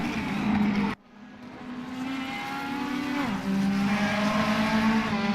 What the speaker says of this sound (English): Raggio getting it a little bit wrong, but still hanging on to the back of this battle between the Mercedeses